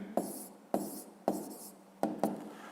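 A pen scratches numbers onto paper in four short quick bursts, with a brief pause between strokes and a double stroke near the end, close and fairly quiet with no talking.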